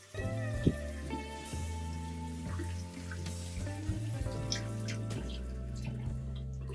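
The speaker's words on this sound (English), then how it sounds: "Wash them to remove any dirt and drain well so they don't add extra water to your rice." Vegetables rinsed under a running kitchen tap make a steady stream of water with drips and splashes shifting as they are handled, close and moderately loud. Low tonal hum runs underneath and no one speaks.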